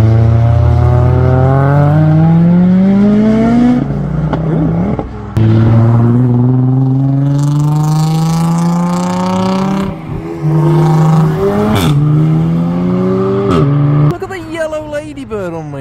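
Cars revving hard and accelerating away from a car show, including a Golf and a yellow Beetle, with loud rising engine notes that climb repeatedly through the gears, one after another, up close and dominating throughout.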